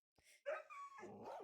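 Dogs in Minecraft let out a few quick barks and yips, close and clear, one after another with little pause.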